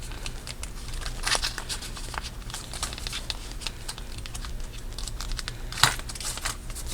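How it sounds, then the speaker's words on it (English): A single sheet of paper being folded into an origami pouch, close crinkling and rustling with creasing swipes and a sharper crackle near the end, no speech. "So you're going to fold both edges to meet that center fold line."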